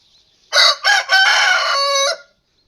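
A loud, close crow from a Wyandotte rooster, a few sharp opening notes rising into a long drawn-out call, ringing clearly against near silence.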